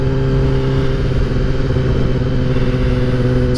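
A 2021 Kawasaki ZX10R sport bike rolls along slowly with a loud, steady low engine rumble and faint rattling clatter, and no voices over it.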